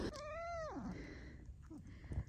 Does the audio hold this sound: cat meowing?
yes